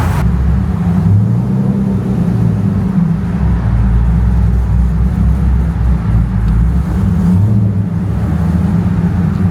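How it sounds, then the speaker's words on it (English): A Chevrolet Corvette C6 with the top down drives along, its engine and exhaust a loud, steady low rumble that stays constant and close throughout, with no voices. "Let's go for a ride and let's see this thing pop."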